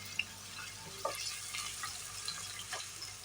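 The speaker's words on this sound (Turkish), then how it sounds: "Tavamda kavrulana kadar, rengi sarıya dönene kadar duracak." Soft sizzling of chopped onion frying in a pan with a few light clicks and scrapes of stirring, steady and fairly quiet.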